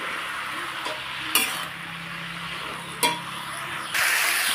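Spinach is stirred in a cooking pan, with a soft continuous sizzle and a few sharp scrapes and knocks of the utensil against the pan.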